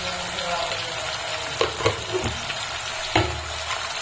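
Tomato and onion roasting in a pan for prawn masala, giving a steady close sizzle with a few sharp clinks and scrapes as they are stirred.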